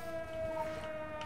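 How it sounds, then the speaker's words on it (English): A video game siren holds a steady, pure wailing tone at moderate level throughout the short stretch, over faint background noise. "That siren is pretty"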